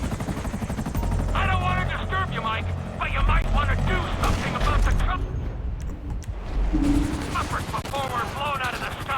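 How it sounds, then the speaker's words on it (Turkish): Helicopter rotors mixed with bursts of gunfire in the video game GTA 5, a steady battle din that carries under someone talking excitedly. "kaç tane helikopter geliyor lan?"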